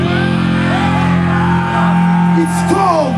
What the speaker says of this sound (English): I wanna hear you screaming out as loud as you can.